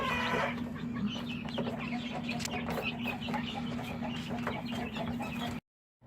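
Chicks cluck and peep steadily close by in a coop, with a constant chorus of chirps and soft clucks that cuts off abruptly near the end.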